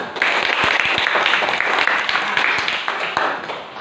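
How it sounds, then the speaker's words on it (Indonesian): Sustained applause from a group, loud and dense with a few sharper individual claps standing out, steady throughout with a faint voice underneath. "Ini tepuk tangan"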